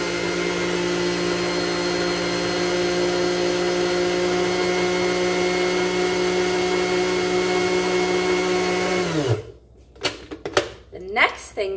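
Food processor whirring steadily as it blends homemade mayonnaise, a loud, even motor drone that winds down to a stop near the end, followed by a few clatters as the lid and bowl are handled.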